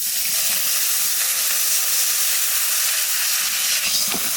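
Water poured into hot mustard oil in a pan with cumin, radhuni and green chillies, cooking Bengali fish curry with brinjal, gives a steady loud hiss and sizzle that runs unbroken for several seconds with no voices.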